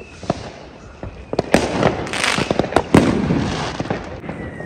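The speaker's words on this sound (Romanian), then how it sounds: "Cam astea sunt artificiile din Germania." Fireworks and firecrackers crackle and bang across a German New Year's Eve night, with scattered sharp pops and denser bursts at varying distances, some near and loud, others faint and far off.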